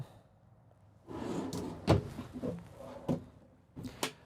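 Kitchen drawers in a 2026 Winnebago EKKO 23B Sprinter RV slide open and shut, producing a handful of close, sharp knocks and thumps with short rumbling slides between them in a quiet interior.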